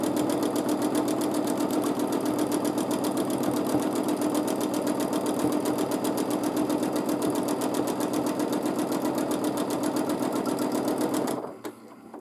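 A sewing machine stitching free motion quilting runs steadily at high speed, its rapid needle clatter loud and continuous for about eleven seconds before stopping abruptly, leaving near silence.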